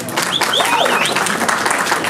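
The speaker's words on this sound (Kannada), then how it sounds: "ಜೋರಾಗಿ ಚಪ್ಪಾಳೆ ಬರಲಿ ಸೂತ್ರಧಾರ ಟೀಮ್ಗೆ" A film audience claps loudly for the Suthradaari movie team at a Kannada celebrity show, a dense, steady wash of applause and crowd noise lasting throughout, with some cheering voices mixed in.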